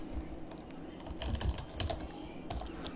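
Fingers type text on a computer keyboard in a quick, irregular clatter of soft keystrokes, fairly faint and close, with no talking.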